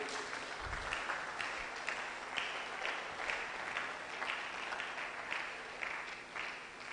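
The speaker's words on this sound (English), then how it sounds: "Please let's keep clapping." A conference audience claps in sustained, even applause that carries on for several seconds, fairly distant and soft.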